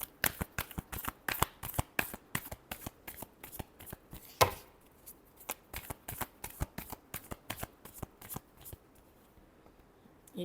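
Tarot cards being shuffled by hand: a rapid run of crisp riffling snaps and soft slaps, close and fairly quiet, pausing briefly midway before resuming, with no talking.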